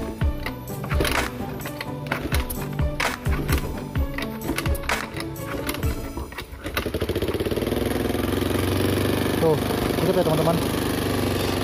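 Honda Beat automatic scooter after a valve adjustment, with clattering and shuffling at first, then the engine settling into a steady, even idle hum. Someone speaks over the start.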